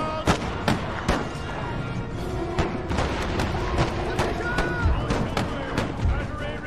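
Cannon and musket fire crackle through an Empire: Total War battle, a dense run of sharp reports and dull booms at irregular intervals over a constant loud rumble of battlefield noise.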